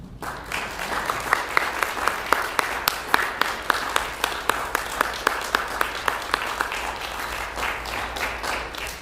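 A church congregation claps warmly after a service talk, with a steady wash of applause and distinct sharper claps standing out. It stays at a moderate level for about nine seconds without fading.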